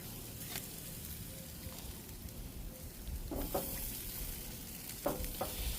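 A T-bone steak sizzles on a ripping hot grill, giving a steady, close frying hiss with soft crackles and a few sharper pops and scrapes near the end.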